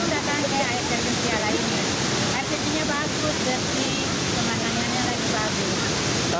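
Piala waterfall in Luwuk, Central Sulawesi, roars as a steady dense rush of falling water, loud and constant, with voices talking faintly underneath.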